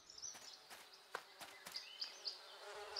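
Bees buzz around their hive in the children's cartoon Be-Be-Bears: a faint, continuous insect drone with a few soft thumps and brief higher whirs, heard alone without any voices.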